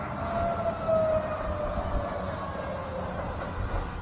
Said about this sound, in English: Here's Sirens across the river.